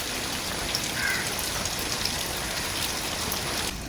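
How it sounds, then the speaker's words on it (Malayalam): Rain falls steadily in a broad, even hiss that holds at a constant level, with no voices. "ഓ മഴയും പെയ്തു."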